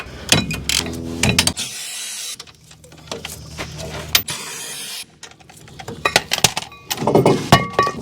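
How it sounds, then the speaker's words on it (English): Caliper bolts on a 2008 Ford Ranger brake being broken loose with a 15 mm ratchet, close mechanical clicking and ratcheting in bursts with sharp metallic knocks and brief pauses. "I'm just gonna break the caliper bolts loose here."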